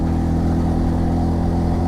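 A car drives a mountain road in Gilgit-Baltistan toward the Deosai Plains, its engine a steady, close mid-pitched drone with road rumble underneath, held at an even, moderate speed.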